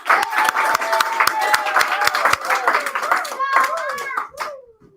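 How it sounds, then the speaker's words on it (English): At a year-end event, hands clap in a fairly regular rhythm, close and loud, while children's voices call out and cheer over them before the clapping fades. "a nice round of applause."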